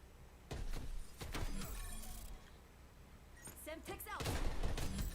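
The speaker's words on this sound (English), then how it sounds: "That's a burst or a rifle, one of the two." Bursts of video game rifle fire crack out in short clusters, several quick volleys spread across a few seconds, mid-distance and moderately loud against low background noise.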